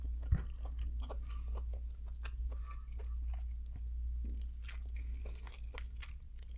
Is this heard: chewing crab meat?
yes